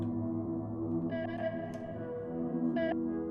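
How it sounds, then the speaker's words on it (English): Electronic music played through an Elektron Octatrack with a reverb effect, sustained layered synth tones smeared into a washy, echoing tail with a couple of brighter swells, steady and moderately quiet, no voices. "Then this next one is just reverb."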